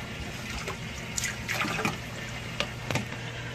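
Liquid treatment is poured into an aquarium sump beside the return pump, giving a close, gurgling splash and trickle of water with a few brief sloshes over steady running-water background.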